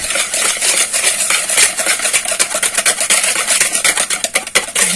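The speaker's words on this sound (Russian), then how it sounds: "Но я венчиком взобью." Rapid scraping and clinking of a whisk beating apple pie batter in a bowl, with a steady, busy rhythm throughout, close and fairly loud with no voices.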